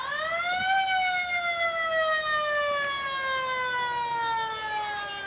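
A 1907 fire engine's mechanical siren wails during a Fourth of July parade on Main Street in Waupaca, rising quickly and then sliding down in one long, slowly falling moan at moderate distance.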